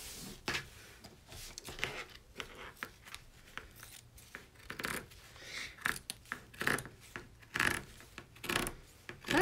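Fabric being cut with a blade during in-the-hoop embroidery of a wine tote, a series of short crisp snips and scraping rasps at an uneven pace, close and fairly quiet.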